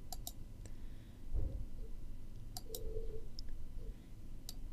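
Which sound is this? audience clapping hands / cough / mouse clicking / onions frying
mouse clicking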